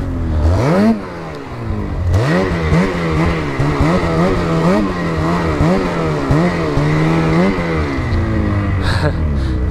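A vehicle's engine revs hard in repeated rising and falling pulses as it spins out on ice on a mountain trail, loud and close, with a few brief voices near the start and end.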